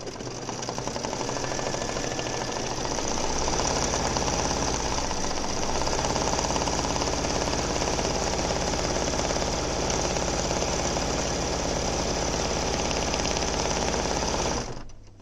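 An embroidery machine stitches a detailed badge design, giving a loud, steady, rapid mechanical hammer and whir that runs unbroken, with no voices, until it cuts off abruptly just before the end.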